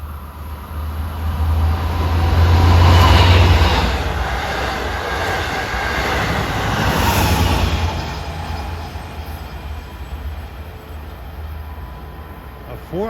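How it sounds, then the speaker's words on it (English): A four-car double-ended LIRR train, number 18 from Hunters Point Avenue to Montauk, rumbles past Forest Hills with a loud rising and fading roar and wheel noise, a brief squeal at the end. "here comes train 18 from Hunters Point Avenue to Montauk"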